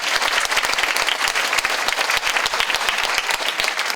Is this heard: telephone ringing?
no